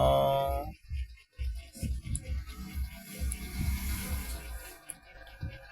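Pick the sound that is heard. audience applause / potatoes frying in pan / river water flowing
river water flowing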